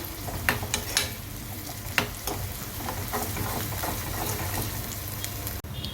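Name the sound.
onions and curry leaves frying in pan for mushroom curry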